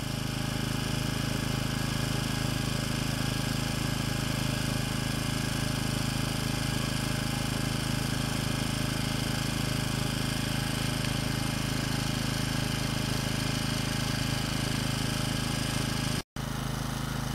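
An engine fitted with a retrofitted ram-air turbine driven by exhaust-gas flow runs steadily, a constant close drone with a low hum throughout and a brief dropout near the end.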